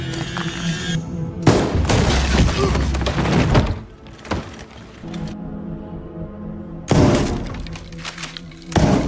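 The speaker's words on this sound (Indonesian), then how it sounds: "mendengar suara tembakan" Bursts of loud gunfire crack out in dense volleys with short gaps between them, harsh and close, alongside shattering impacts.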